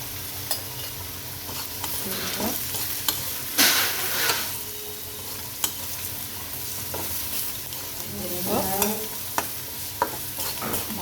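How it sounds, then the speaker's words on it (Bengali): Spices (turmeric, cumin, chili, coriander) frying with onion in a pan over very low heat for a Bangladeshi boal fish curry, a steady soft sizzle with repeated scraping stirs and a few sharp utensil clicks, close and alone without talk. "আঁচটা একদম অল্প থাকবে তাহলে মশলাটা ভাজা হবে"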